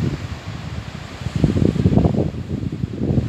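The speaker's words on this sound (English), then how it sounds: "Very windy." Steady wind buffets the microphone in low rumbling gusts that swell louder midway, with no voices present, on a wild coast in Sardinia, Italy.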